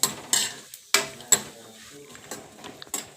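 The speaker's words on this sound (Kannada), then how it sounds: "ದ್ರಾಕ್ಷಿ, ಗೋಡಂಬಿ, ಸ್ವಲ್ಪ ಬಾದಾಮಿ ಎಲ್ಲ ಸ್ವಲ್ಪ ಪುಡಿ ಮಾಡಿಕೊಂಡು ನೀಟಾಗಿ ಫ್ರೈ ಮಾಡ್ಕೊತಾ ಇದ್ದೀನಿ" Crushed raisins, cashews and a few almonds being fried in ghee for chapati halwa, heard as sharp spoon-on-pan clanks and scrapes at irregular intervals over a faint background sizzle, close up.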